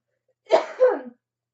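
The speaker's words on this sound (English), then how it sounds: "Pardon me with all the coughing." A single short cough, sharp and close, with two quick bursts and silence around them.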